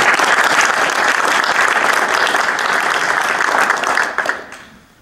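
Sustained applause from the audience at a Tewksbury school committee meeting honoring a student, steady and dense for about four seconds before tapering off into quiet.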